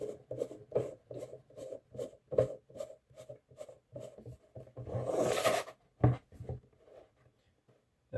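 A 3D-printed watch case part is turned and screwed into place, producing a regular run of short scraping, ratcheting clicks, close and fairly quiet, with a longer rubbing grind near the end before the turns slow and fade.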